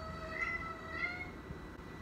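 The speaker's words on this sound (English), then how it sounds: "Sorry, that was my cat." A cat meows twice in quick succession, fairly faint, over a steady low background hum.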